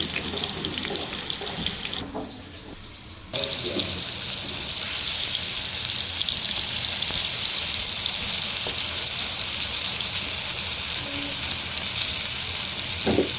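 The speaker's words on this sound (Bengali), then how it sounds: "এখন এটাকে গরম তেলে ভেজে নেব।" Marinated pumpkin slices frying in hot oil, a dense continuous sizzle that drops away briefly for about a second before returning full and steady, close up.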